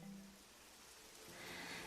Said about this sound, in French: Écoute le son léger de cette pluie, douce, régulière, presque musicale